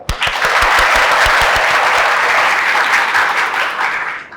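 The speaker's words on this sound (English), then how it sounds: "But all of you started clapping." An audience at a design thinking and communication lecture breaks into loud, sustained hand clapping that fills the room for about four seconds before tapering slightly.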